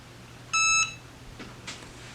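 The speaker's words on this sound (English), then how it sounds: "so it just beeped, it's done" A Cricut EasyPress 2 heat press gives a single short, clear electronic beep when its countdown finishes, over a quiet room hum with a couple of faint soft knocks afterward.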